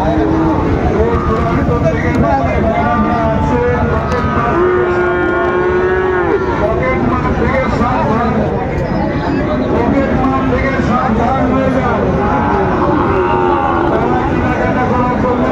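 Sahiwal bull at a cattle market, with drawn-out moos from nearby cattle amid constant crowd noise and people talking close by.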